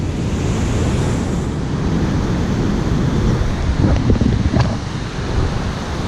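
Big west-facing beach swell surges and churns in several directions, a steady loud roar of surf under gusty wind buffeting the microphone, with a brief stronger wash midway.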